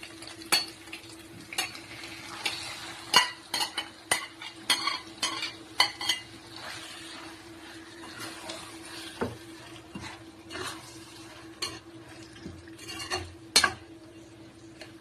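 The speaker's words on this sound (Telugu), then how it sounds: "ఇదిగో చూడండి మ్యారినేట్ చేసిన చికెన్ మంచిగా ఇప్పుడు ఇందులో వేసేసుకుందాం." Marinated chicken goes into a pot for Hyderabadi dum biryani and is stirred, with repeated sharp scrapes and clinks of a spoon against the pot over a low frying sizzle, close and with no voices.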